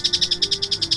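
Two baby eagles in a classic Felix the Cat tale give high, piercing chirps repeated in a quick steady series of about a dozen short calls, close and alone with no talk.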